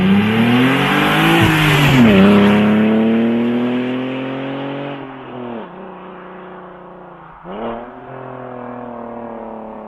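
HRC Hurricane car engine revving close and loud, climbing to a high-pitched roar and then falling away, followed by two shorter blips of the throttle.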